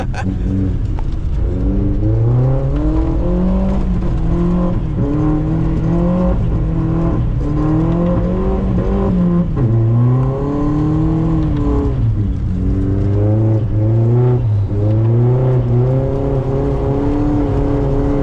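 Audi S3 drifting on an icy track, its engine revving hard and continuously with rising and falling pitch sweeps as the throttle is worked, loud and close throughout.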